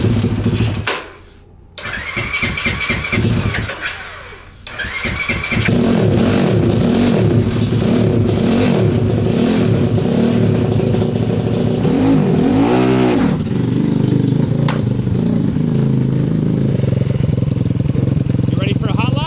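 A 190cc shifter kart engine, fitted with new spark plugs, sputters and catches, then settles into a loud, steady, close-up revving drone, with voices talking over it.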